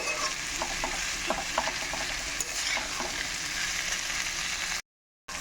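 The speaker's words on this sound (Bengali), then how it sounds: "এক মিনিটের মতো একটু নাড়াচাড়া করে কষিয়ে নেব" Boiled chana dal and potatoes get stir-fried in a pan for a vegetarian Bengali curry, a continuous sizzle with light spatula taps and scrapes, close and steady, cutting briefly to silence near the end.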